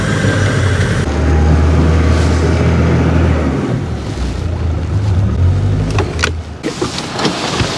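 A new outboard motor on a fishing boat at American Lake starts with a turn of the key, a loud low rumble settling into an idle, with splashing water near the end.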